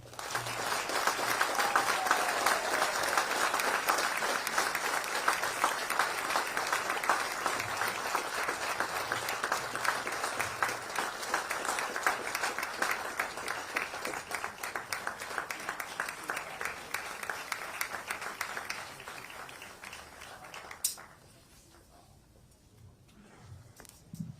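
Sustained audience applause greets the new Charlotte 49ers head coach at an introductory event, a dense, steady wash of clapping lasting about twenty seconds before it quickly dies away.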